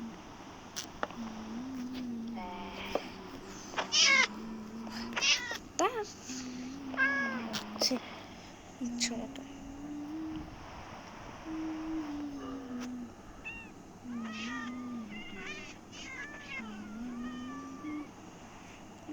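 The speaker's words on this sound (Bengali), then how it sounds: "অনেক বিড়াল ছাড়া দিয়ে দিয়েছি এখানে" Several cats meow over and over, some near and loud, some thinner and higher, in irregular bursts across the stretch, with someone talking in Bengali between and over the cries.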